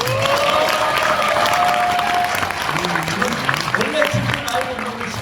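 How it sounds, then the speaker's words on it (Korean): A crowd at a history talk concert claps steadily throughout, a dense patter of applause with a few faint voices mixed beneath it. "박수 한번 다시 주세요"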